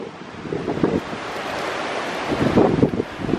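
Wind gusts buffet the microphone outdoors in a steady rushing roar, swelling louder in the last second, with no talk over it.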